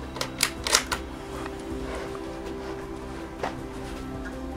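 Small metallic clicks from a rifle scope's windage turret being turned, a quick cluster of ticks near the start and one more later, close over a steady mechanical hum.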